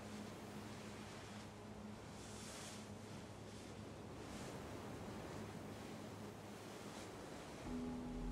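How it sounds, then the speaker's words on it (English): Two waterfalls in the Islands of Insight video game rush in a steady, dense roar that holds evenly throughout, with no voices. "Two waterfalls kiss over here."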